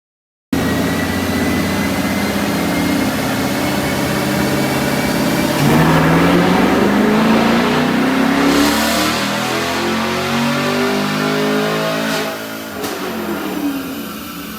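A 2020 Chevrolet Camaro with an LT1 V8 roars through a dyno pull, a loud sustained rev climbing steadily in pitch, peaking, then dropping off and settling near the end.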